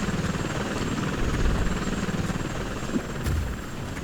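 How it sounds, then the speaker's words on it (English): Helicopter arriving in the video game XCOM: War Within, a steady loud rotor thrum with engine buzz filling the whole stretch, swelling slightly midway and easing at the end. "Helicopter support is coming in."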